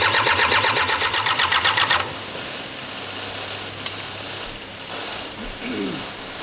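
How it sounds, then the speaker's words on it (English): A Toyota Hilux engine cranked over in a workshop with a couple of fuel injectors cracked loose, a fast rhythmic mechanical chugging for about two seconds that then stops, leaving low workshop noise and faint clatter. "I just want to crack off a couple of the fuel injectors and crank the engine over"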